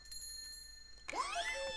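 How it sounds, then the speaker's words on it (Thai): A bright bicycle-style bell rings out in the video game Catie in MeowmeowLand, a single clear chime with shimmering overtones that sweep and fade, following a quiet stretch of soft tonal hum. "โอเคมีระฆังนะผมเอามาใส่ตรงนี้ ใช่ไหม เรียบร้อย มีเสียงแล้ว"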